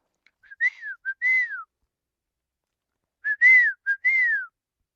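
Person whistling two short pairs of melodic, rising-and-falling notes, clear and close, separated by a pause of silence, with no talk.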